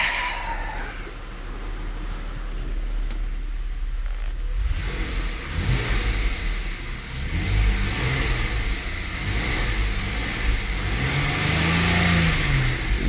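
Lincoln MKS engine with a P0016 fault running in limp mode, idling and then revving unevenly under a rough hiss, the pitch rising and falling over several seconds, close and steady with no talking.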